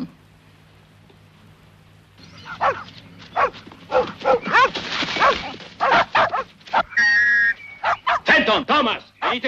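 Several dogs yip, bark and whimper excitedly in quick, irregular bursts, close and fairly loud, with a faint high whine partway through.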